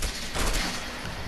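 Gunfire in the video game A Way Out, a continuous dense clatter of shots close and loud across the whole moment, with no clear gaps.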